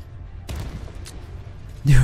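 Tank cannon shots in the video game Armored Warfare, fired from a BMPT: a loud broadband blast rolling off into a rumbling tail, then a second heavier boom with low droning at the end.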